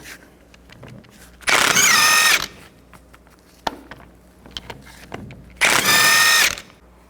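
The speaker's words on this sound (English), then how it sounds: "Take these bolts out, use a 19mm socket." A power tool with a 19mm socket spins out bolts on the rear axle of a 1999-07 Chevy Silverado 2500, two loud, close, whirring bursts of about a second each, separated by quiet clinks and handling.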